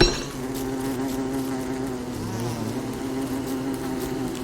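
Bees buzzing in the video game Don't Starve, a steady droning hum from a swarm that holds constant throughout, with no talking.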